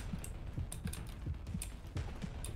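Computer keyboard keys clack in a steady, fairly quick rhythm of light taps, picked up over a gaming voice chat while Serious Sam 4 is played co-op. The presses are moderately loud with no talking over them.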